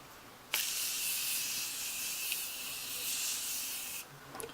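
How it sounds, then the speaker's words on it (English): Setting spray misted onto a face gives a steady, close breathy hiss that starts abruptly and runs for about three and a half seconds before cutting off, with no talk over it. "Okay, I'm just gonna spray my face."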